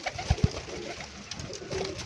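Pigeons in a flock kept for sale give two quick, soft, low coos close by, followed by a quieter stretch with faint background murmur.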